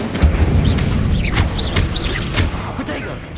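The Incendio fire spell cast during combat in Hogwarts Legacy: a run of booming, crackling blasts with sharp flaring bursts, loud and close amid busy game noise.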